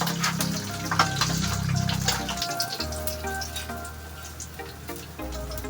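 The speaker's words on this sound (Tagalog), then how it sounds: "Tapusin ko lang muna itong pagluluto ko ng prito." Two fish frying in a home kitchen pan, a steady close sizzle with popping oil, busy at first and then settling into a quieter, even crackle.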